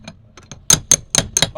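A 17mm spanner knocks hard against a barn door board, several sharp metallic-wooden raps in quick irregular succession, loud and close after a few lighter taps.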